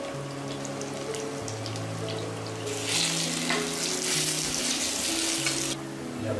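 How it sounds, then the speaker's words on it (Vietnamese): Close, steady sizzle of taro frying in oil, crackling and hissing, swelling louder and busier midway before easing back. "Các bạn chiên khoai môn cho nó vàng hai mặt."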